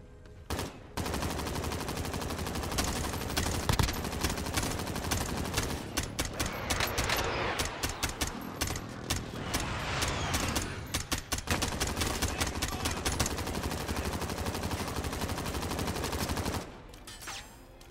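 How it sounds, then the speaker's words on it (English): Strafing gunfire from a plane in Call of Duty Warzone, long rapid bursts of loud machine-gun fire with short gaps, sustained for most of the stretch before cutting off. "The AD strafing is fucking strong with this one"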